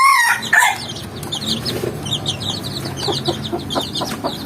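Healthy young roosters clucking and crowing in a pen, one clear crow near the start followed by a busy stretch of overlapping clucks and short calls, close and moderately loud.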